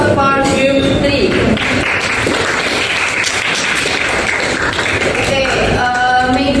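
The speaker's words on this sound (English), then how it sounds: "Please give applause for group 3." A classroom of students applauds a winning group, producing loud, dense clapping that stays steady for the whole stretch with a few voices mixed in.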